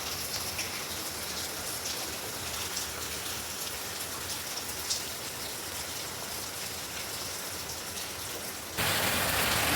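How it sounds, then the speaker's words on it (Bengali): Heavy early-morning rain falls outside in a dense, continuous patter, steady throughout and briefly louder near the end. "বৃষ্টি দেখো"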